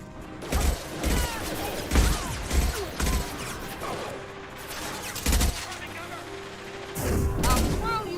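Repeated bursts of gunfire in the video game Mass Effect 2, loud sharp shots in irregular clusters amid combat effects, with voices talking in between.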